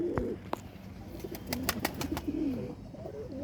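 Pigeons kept by a fancier for long flights, coo in soft repeated throaty phrases close by, with a few sharp chirps and light rustling mixed in, no talking.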